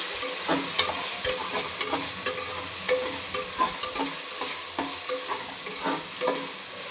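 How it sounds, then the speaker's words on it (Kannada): A ladle stirs softened tomato and onion in a hot pan, making repeated scraping strokes in an uneven rhythm over a constant sizzle, close and fairly loud, with no voices. "ಈಗ ಒಂದು ಸಲ ಸೌಟ್ ಹಾಕ್ಕೊಳ್ಳೋಣ"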